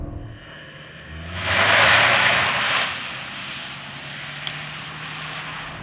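A 2024 Toyota Highlander launches from a brake-boost start, its engine note swelling into a loud rising roar for a second or two before easing back to a steady drone, with no talking.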